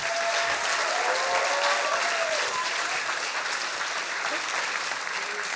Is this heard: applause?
yes